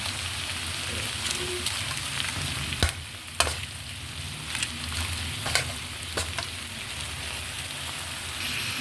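Crab sizzling in a pan of butter and lots of garlic, a steady close frying hiss with occasional sharp pops and stirring knocks.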